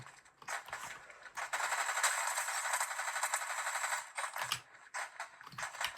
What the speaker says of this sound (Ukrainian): Звідки по мені стріляють, я не поняв.